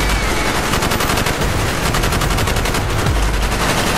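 Dense, continuous automatic gunfire from a Call of Duty: Black Ops battle rattles loudly and without pause, several weapons overlapping into a constant roar.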